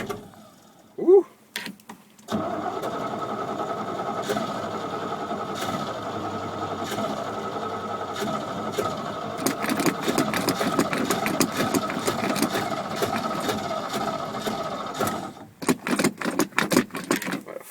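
Cold start of an old 1979 Chevy 350 V8: brief cranking, then the engine catches and settles into a loud, rough, continuous idle that swells and revs up before cutting out near the end.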